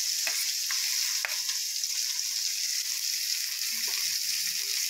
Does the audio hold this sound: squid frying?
yes